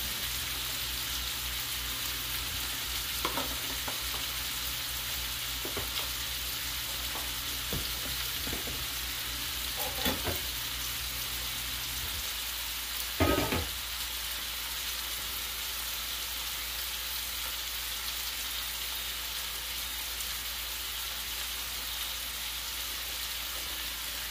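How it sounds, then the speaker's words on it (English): Onions and cauliflower browning and caramelizing in a hot pan with dried parsley, a steady close sizzle throughout, with a few scattered clicks and scrapes of stirring and one louder clatter midway. "we're going for getting a little browning and caramelizing with the onions and the cauliflower"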